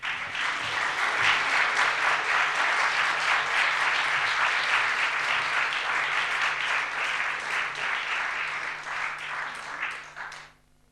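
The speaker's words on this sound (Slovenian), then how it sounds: "Prosim, zaploskajte ji." An indoor audience at an evening talk evening in Slovenia claps steadily and loudly for about ten seconds, a dense even patter that fades out at the end.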